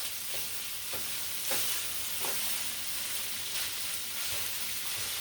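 Sausage sizzles and fries steadily in a pan while being stirred and flipped, with a few soft scraping knocks over the continuous crackle; no one speaks.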